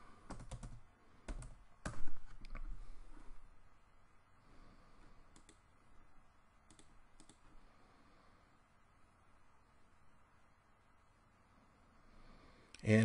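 Computer keyboard typing, entering a search term into an app: quick bursts of key clicks at the start, then sparse, faint taps over a quiet room, with no talking.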